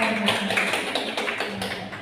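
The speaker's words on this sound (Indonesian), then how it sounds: "tepuk tangan dulu untuk kelompok peduli dan Budesi ya" A small group claps for a presenting team in a teachers' training session, a dense, steady patter of hands lasting the whole moment and easing slightly at the end.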